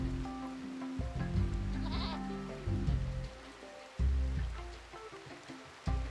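Goats bleat in the RimWorld video game, several close, wavering calls in irregular bursts over a soft background patter resembling rain.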